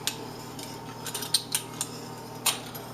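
Spoon stirring baked pumpkin steel cut oatmeal in a bowl, a handful of light metallic clinks and scrapes scattered irregularly and close by, quiet, with no talking.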